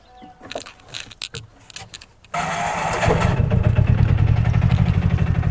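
A Bajaj Maxima auto rickshaw is started: keys jangle and click briefly, then the small engine catches and settles into a steady, close, pulsing idle.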